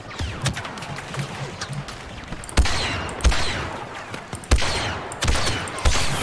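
Blaster fire in the Star Wars Battlefront video game cracks out in a string of sharp bursts, rapid lighter shots early, then louder separated blasts roughly every half second over busy battle noise.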